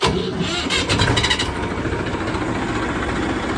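A tractor engine cranks and catches, a loud close rumble that settles into a steady idle on a village farm.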